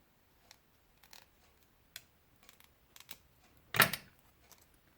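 Scissors cutting bits of paper for a collage, a few soft snips and small taps followed by one louder, longer crisp cut near the end, close and quiet.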